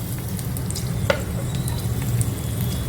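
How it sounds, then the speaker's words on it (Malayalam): Chopped garlic and ginger sauté in hot oil in a pan, giving a steady, close sizzle throughout with a faint stir or scrape of a utensil partway through. "ഇത് ഒരു മിനിറ്റ് ഒന്ന് വഴറ്റുക"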